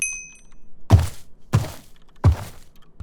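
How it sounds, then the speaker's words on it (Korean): Three heavy, muffled thuds land at a slow, even pace, like lumbering footsteps of the sniffer in Minecraft, with quiet gaps between them. "스니퍼 걷는 소리가 좀 다른 몹들이랑 달라요"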